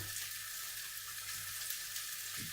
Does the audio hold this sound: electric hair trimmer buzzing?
no